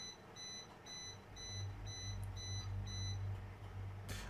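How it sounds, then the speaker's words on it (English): A bread maker sounds a steady run of about seven loud, high electronic beeps at even intervals over a low room hum, with no talking. "I apologize about that loud beeping."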